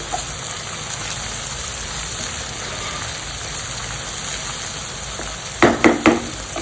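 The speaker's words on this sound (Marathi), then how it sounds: "आता टोमॅटो टाकायचे थोडी कोथिंबीर टाकायची फोडणीमध्ये हिंग टाकायचं आणि मिक्स करून घ्यायचं" Tomatoes, coriander and asafoetida fry in a hot tempering, giving a steady, close hiss of sizzling oil throughout, broken near the end by three quick scraping stirs.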